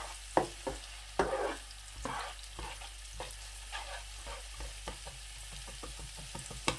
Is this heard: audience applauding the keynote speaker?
no